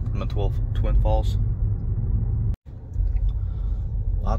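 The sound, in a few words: car driving on the Road to Hana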